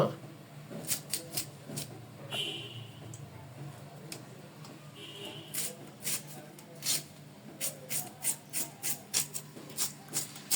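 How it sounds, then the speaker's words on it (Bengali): A kitchen knife chops onions and potatoes on a board for a small-fish kachki chorchori, giving a run of quick, irregular taps that speed into steady rhythmic strikes over a low background hum. "এখন এখানে পেঁয়াজ আর আলুগুলোকে কুচি করে নেওয়া হবে মাছ রান্নার জন্য।"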